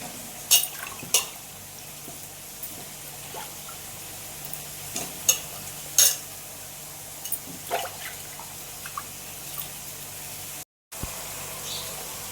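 Washed brinjal pieces dropped straight into hot tempering oil for a brinjal and raw mango tamarind stew, giving a faint, quiet sizzle with a few sharp clinks and clatters from the pan.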